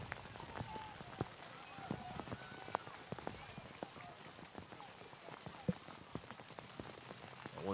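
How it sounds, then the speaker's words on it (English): Heavy rain pours down with strong wind during an outdoor college soccer match, a dense hiss of drops hitting surfaces with scattered sharper splashes and thumps, steady and fairly loud throughout. "it is tremendous downpour, heavy winds"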